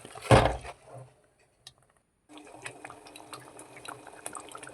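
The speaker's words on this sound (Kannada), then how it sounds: "ಯಾನಿತ್ತೆ ಮಿಕ್ಸಿ ಜಾರಿಗೆ ಒಂತೆ ನೀರು ಪಾಡ್ದು ಮಿಕ್ಸ್ ಮಲ್ತ್ ಪಾಡೊಂದುಲ್ಲೆ" Water is poured into a mixer jar while a masala cooks: a short splashing pour up close, a pause, then soft trickling and dripping over faint background sizzle.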